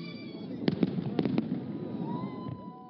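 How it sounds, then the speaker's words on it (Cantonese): New Year fireworks over the Brandenburg Gate in Berlin, a rapid cluster of sharp bangs and pops bursting over a steady crowd-like rumble, then fading into softer distant crackles. "煙花同埋雷射燈光照亮柏林嘅上空"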